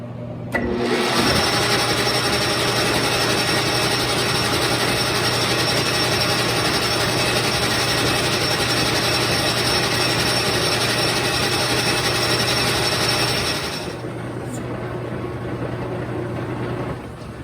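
Lathe boring a hole in a metal screw jack part, a steady whirring machine drone with a faint cutting hiss holding constant for most of the span, then dropping to a quieter hum near the end.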